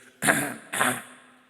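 A voice imitates a middle-aged churchgoer coughing during a Sunday church service: two hoarse, fairly loud bursts about half a second apart, then quiet.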